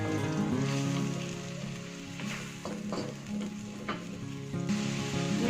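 Spices sauté in a hot pan for an Indonesian dish, giving a steady, close sizzle with brief stirring scrapes and rustles throughout and no talking.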